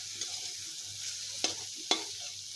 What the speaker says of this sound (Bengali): একটু ভেজে নিতে হবে ভালো করে, লবণটা যাতে ঢোকে সেই জন্য ভালো করে ভাজতে হবে।